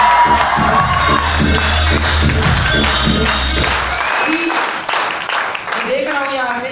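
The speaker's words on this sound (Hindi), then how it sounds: "क्योंकि इस हॉल में तालियों का शोर चाहिए।" Audience in a hotel hall breaks into loud applause and cheering, dense clapping with shouts that cuts off after about four seconds, leaving scattered voices and chatter.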